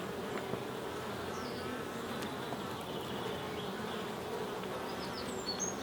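Dense, steady buzzing of many honey bees close by in an open hive with brood frames, a continuous hum with occasional individual bees flying past.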